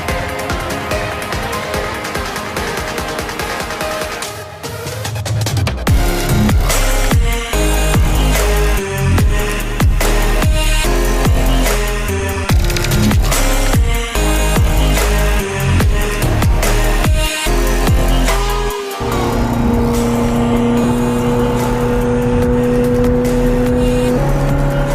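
A Ferrari supercar engine drones loudly from inside the cabin while driving, a steady roar with rising and falling revs and a brief dip around the shifts.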